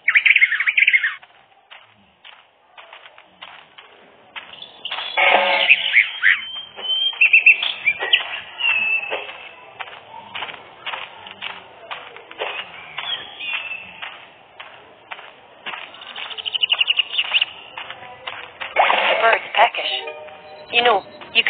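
Bird in a video game chirping in bursts of high, quick tweets and squawks, loud and close, with pauses between calls and a person talking over parts of it.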